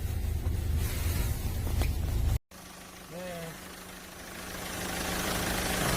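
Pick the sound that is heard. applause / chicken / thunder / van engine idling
van engine idling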